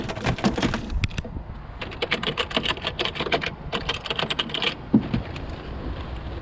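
Keys on a vintage 1980s computer keyboard clatter in fast, close bursts of clicky strokes with brief pauses between runs, loud and alone without speech.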